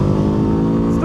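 A 2025 Kawasaki Ninja 7 Hybrid motorcycle pulls out of a roundabout at full throttle without electric boost, its engine giving a steady, close, rising drone over the brief moment.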